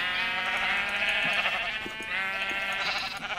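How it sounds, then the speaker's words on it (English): Sheep bleat in the Minecraft video game, with a few clear, nasal bleats following one another close up and loud against a quiet background. "let's try and get a different colored sheep."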